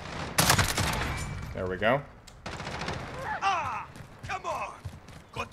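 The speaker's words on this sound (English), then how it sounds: "It took three bursts because we didn't hit all of our shots on the burst" A FAMAS Valorisé rifle fires short bursts in Call of Duty Modern Warfare, a quick volley of shots followed by scattered impacts and effects, with a brief spoken remark near the end.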